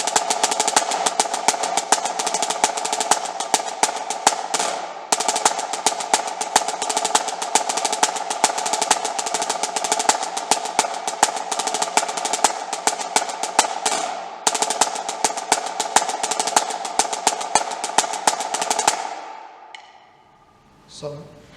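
A snare drum plays the SEC marching beat 7 cadence, with dense, rapid strokes in steady repeating loops, loud and close, alone without talk, ending in a brief ringing decay.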